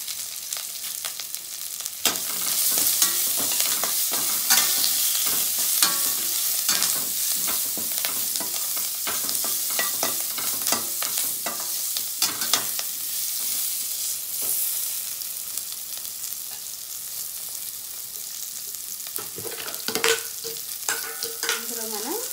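Thin long-sliced onions fry in oil with turmeric and garlic paste for masala karam dosa, a continuous close sizzle broken by frequent scraping stirs and clinks of the spoon against the pan.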